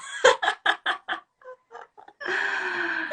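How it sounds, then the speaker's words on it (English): Roosters cluck and call in a rapid run of short bursts, then a sustained crow rings out, fairly close and loud against a quiet background. "I love that we can both hear the roosters going back and forth."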